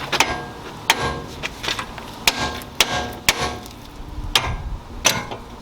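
Several sharp metal hammer blows strike the spindle knuckle of a 2003-2007 Nissan Murano, irregular whacks spaced about half a second apart, close and ringing briefly, with no voices.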